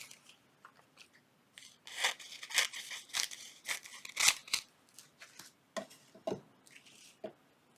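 Scissors cut through paper for a junk journal, a close, quiet series of crisp snips and crunches in irregular clusters with short pauses between.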